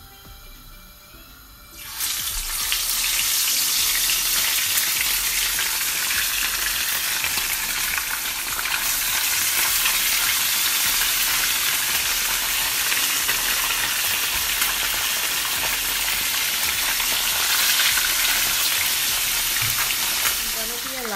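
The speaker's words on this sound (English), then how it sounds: "I'm gonna be allowing my fish to fry for at least 10 minutes, about 5 minutes on either side." Halved fish dropped into hot oil for brown stew fish, a quiet start giving way to a loud, continuous crackling sizzle that holds steady throughout.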